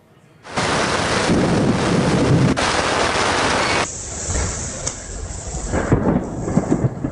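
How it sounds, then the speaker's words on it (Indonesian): Heavy rain lashing down with strong gusting wind during a thunderstorm in Bandung, West Java, a loud steady roar that starts abruptly, then eases to a softer downpour with scattered sharp spatters, no voices. "Hujan deras disertai angin kencang sempat terjadi di Kota Bandung"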